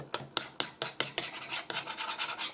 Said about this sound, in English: I'm scraping the edge of the bowl with all the little cakes of flour